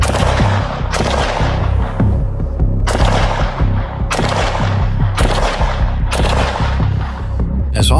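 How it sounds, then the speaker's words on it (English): Gunfire in a police confrontation, six or seven sharp loud shots spaced about a second apart over a low throbbing engine-like hum. "Traffic 66, shots fired."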